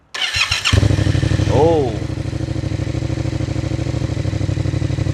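A motorcycle engine cranks and catches, then settles into a loud, close, thumping idle through an exhaust baffle packed with fiberglass mat, with a brief exclamation from a voice.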